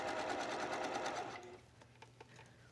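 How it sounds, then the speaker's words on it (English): A domestic sewing machine runs a quarter-inch seam along a scooped neckline, a fast even stitching rattle for over a second, then stops, leaving a few faint clicks in a quiet room. "let me show you what to do at the sewing machine"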